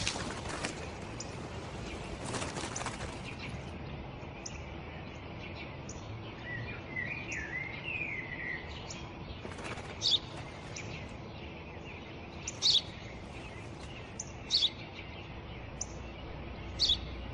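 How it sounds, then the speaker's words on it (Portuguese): A bird chirps outdoors in short, sharp tweets that come at scattered intervals, plus a brief warbling phrase, over a steady hiss of insect or ambient noise. "Eu já te disse, pai, é um pássaro."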